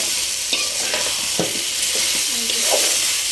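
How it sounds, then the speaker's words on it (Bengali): Narikeli fish frying with spices in a pan, a loud, continuous sizzle close up, with a few spoon scrapes and soft clinks as the masala is stirred in. "কষানোর সময় ভালোভাবে মশলাটার সাথে ভালোভাবে কষিয়ে নিচ্ছি"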